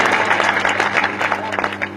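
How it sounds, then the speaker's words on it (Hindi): Thin, scattered applause from an audience at a Hindi patriotic poetry recitation, a short burst of clapping at moderate volume with a little crowd murmur underneath. "कमजोर तालियां थी"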